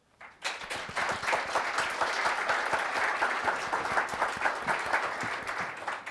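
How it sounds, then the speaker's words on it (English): An audience applauds panelists at a crypto banking panel discussion, steady dense clapping that swells in after a brief quiet start and holds loud and close throughout. "Let's give them a round of applause."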